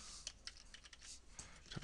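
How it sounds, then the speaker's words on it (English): Keys on a computer keyboard tap out a URL in an irregular run of soft clicks, quiet and close. "I can actually type the URL in here and then whatever text I want"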